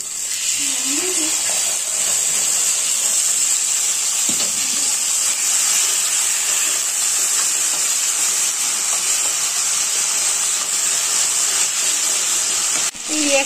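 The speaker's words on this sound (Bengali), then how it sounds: "ফেটিয়ে রাখা দইটা দিয়ে দিচ্ছি।" Whisked yogurt poured into a frying katla fish curry gives a constant, bright hissing sizzle that holds steady for the whole stretch, with faint voices underneath.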